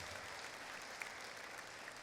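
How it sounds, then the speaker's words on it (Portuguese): A church congregation claps in praise during a worship service, a steady dense patter of many hands that stays fairly quiet and distant throughout. "Então adora Jesus com as suas palmas aí."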